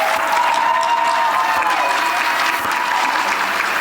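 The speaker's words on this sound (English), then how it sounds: "So let's give Professor a round of applause." At a book launch and signing ceremony, an audience gives the professor sustained, even applause, a thick wash of many hands clapping at once, with a faint tonal hum beneath.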